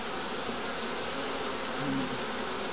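Dense, continuous buzzing of many honeybees at an open hive during a colony check, close and steady throughout, with no talking.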